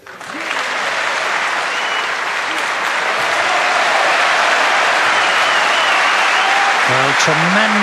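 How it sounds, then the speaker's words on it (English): Sustained, loud applause from a snooker tournament audience swells after a quiet start and holds steady, with a commentator's voice briefly audible near the end. "tremendous applause from the audience"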